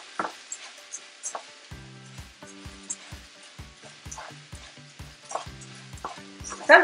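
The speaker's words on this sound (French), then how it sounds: "on va rôtir les riz avec les champignons." Rice is roasted with mushrooms in a pan for risotto, giving a soft sizzle with occasional stirring scrapes, close and fairly quiet, while a steady low tonal hum runs intermittently underneath.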